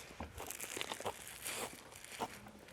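Crisp, crunchy chewing on bok choy kimchi comes in several close, quiet crackling bites.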